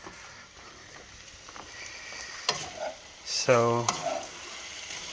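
Quail being stir-fried in a hot pan for a spicy Cambodian dish, with faint sizzling and a few scraping stirs of the spatula, the loudest clatter near the end, and a brief word spoken.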